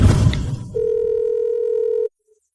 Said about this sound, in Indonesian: Telepon nyambung.